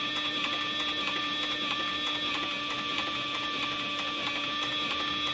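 A leather sewing machine for saddle making stitching steadily, a rapid, evenly repeating mechanical chatter over a constant motor whine, close and uninterrupted.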